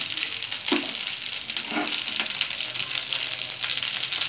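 Sliced okra fries in a little oil in a pan, a steady close sizzle with a few soft stirring scrapes.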